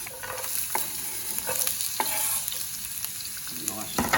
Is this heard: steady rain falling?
no